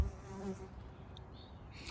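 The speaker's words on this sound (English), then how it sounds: "Ooh, is this a native bee?" Insect buzzing, a native bee among dragon fruit flowers in a Southern California backyard garden, a steady low drone over the whole stretch with a faint higher whine near the end.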